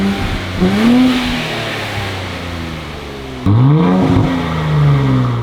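A rare twin-turbo Nissan 400Z with a Borla ATAK exhaust and carbon fiber tips revs up twice, loud and close: two sharp rising blips that each settle back to a rumbling idle.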